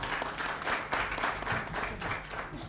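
Audience at a panel on feminist futures in mining and agriculture applauding a speaker: steady crowd clapping, fairly loud and close, continuous for a few seconds with no speech.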